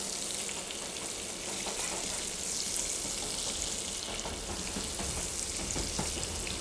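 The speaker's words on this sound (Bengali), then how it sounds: "মিডিয়াম টু হাই ফ্লেমে রেখে আলুগুলোকে ভালো করে উল্টে পাল্টে ভেজে নেব।" Potato pieces seasoned with salt and turmeric fry in oil over medium-high heat, making a steady, dense sizzle that runs unbroken throughout, close and moderately loud.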